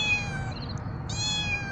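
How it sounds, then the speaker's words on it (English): A trapped stray cat gives a drawn-out meow, then a second rising cry, close and clear over steady low outdoor rumble with no talking. "the odds are Mr. Kitty will never be somebody's pet"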